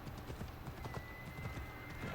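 Horse hooves in Assassin's Creed Odyssey clip-clop in a quick, steady rhythm of close, distinct strikes, with a whinny woven into the background ambience.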